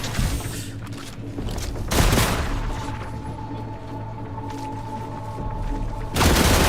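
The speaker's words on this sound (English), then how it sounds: "Okay, something is shooting somewhere." Gunfire in The Last Caretaker comes as a couple of heavy distant booming shots over a constant low engine-like hum, with no talking.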